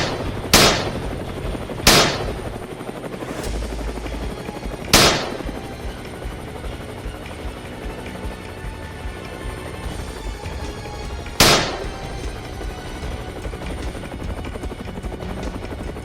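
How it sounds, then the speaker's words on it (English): Helicopter rotor drone running continuously while four sharp gunshots ring out at irregular intervals during an aerial hunt for wild hogs. "In an instant, gunfire echoed across the sky, and hogs dropped one after another,"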